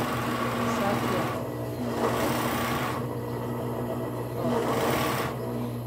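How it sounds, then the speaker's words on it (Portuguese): An overlock sewing machine stitches a sleeve onto a children's bodysuit, a close, steady whirring hum that surges and eases in bursts as the fabric is fed. "Eu já cortei e vou passar a costura aqui, ó."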